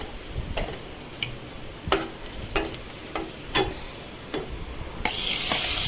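Chopped tomato and turmeric stirred in a pan, with a spatula scraping and tapping in irregular, close clicks over a soft sizzle that grows louder near the end.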